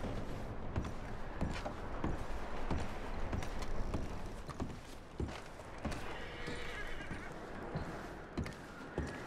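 In the video game Red Dead Redemption 2, a horse whinnies amid a steady clatter of hooves and busy background noise, with sharp repeated thumps throughout and no talking.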